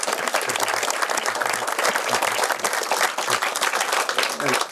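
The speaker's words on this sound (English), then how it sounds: "So let's give her a round of applause for what she's done." Outdoor audience at an industrial hemp field day in Ithaca, New York, giving a sustained round of applause, dense steady clapping from many hands filling the whole stretch, with a few faint voices underneath.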